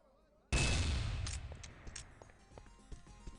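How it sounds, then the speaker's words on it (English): A single loud gunshot in a team shooter video game match, a headshot at an international tournament, cracks sharply and leaves a decaying rumble, with faint scattered shots and game noise behind it. "You could spot the helmet of Pretzel and a nice headshot"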